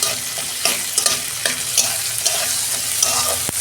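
Green chilies and grated ginger frying in a pan, a loud close sizzle broken by rhythmic scraping strokes of a spatula every half second or so, ending with a sharp clack.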